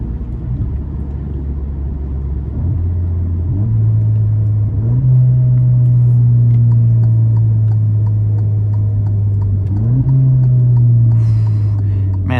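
Alfa Romeo Giulia with a muffler delete, driven hard in manual mode: a loud, steady engine drone punctuated by sharp downshifts where the revs step up abruptly, with exhaust roar close and continuous throughout.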